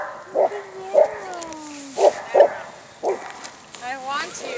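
A dog gives several short, close barks and yips at irregular intervals, with a whining, whimpering tone between them, while people talk in the background.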